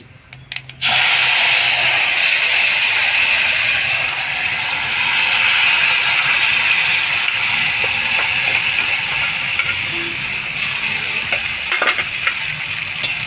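Gravy hits a hot pan already holding mustard and five-spice, setting off a sudden loud, sustained hissing sizzle that runs steadily for the rest of the clip, with occasional stirring clinks and no voices.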